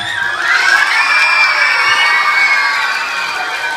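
Schoolchildren at an elementary school anti-bullying rally cheer and shout together in a loud, sustained burst that swells and holds across the moment, a dense crowd of young voices.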